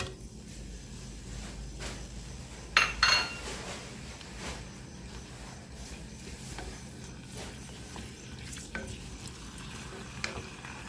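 Ground pork or beef frying in a little cooking oil, a soft steady sizzle under intermittent spatula scrapes and a sharp metallic clank near the start.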